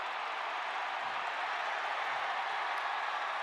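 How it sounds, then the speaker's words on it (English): A stadium crowd roars steadily at a 2022 college football game between Iowa State and Oklahoma State, a dense, sustained wash of distant cheering with no break and no clear voices on top. "And hear the roar of the crowd."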